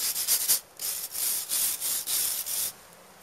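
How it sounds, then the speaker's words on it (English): A wire brush scrubs loose flakes off a wall just inside a marked line while a snorkel vent is being fitted. About six close, harsh rasping strokes come in quick succession with no talk, then it goes quiet. "Then clean the wall just inside the line with your wire brush. Take off any loose flakes."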